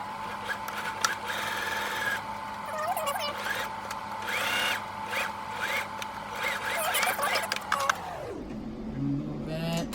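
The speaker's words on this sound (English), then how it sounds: "I'm going to begin sewing all the way around" A sewing machine stitches around a fabric face mask with a steady whirring motor hum and rapid needle rhythm, winding down to a stop near the end.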